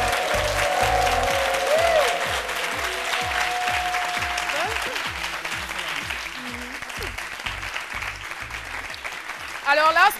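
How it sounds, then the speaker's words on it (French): A studio audience on a French-language midday television show applauds guest Semi Lou. Broad, sustained clapping runs throughout over a steady rhythmic music bed, with a brief burst of louder sound at the very end. "Elle, c'est Semilou Bertine, que je vous demande d'applaudir comme il se doit."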